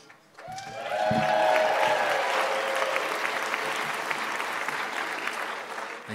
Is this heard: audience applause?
yes